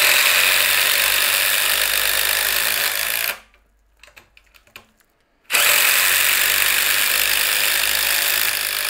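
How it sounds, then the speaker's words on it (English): A Craftsman CMCF820 three-speed impact driver drives 4-inch deck screws, loud continuous rapid hammering and whirring that runs, stops briefly for a quiet gap with small handling clicks, then resumes at full loudness. "we got the Craftsman CM CF820 3-speed impact driver"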